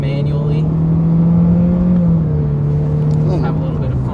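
A 2019 Honda Civic Sport engine pulls steadily in Sport mode as it accelerates, giving a continuous droning hum whose pitch rises slightly and then falls back as it shifts, heard from inside the cabin with no talk over it.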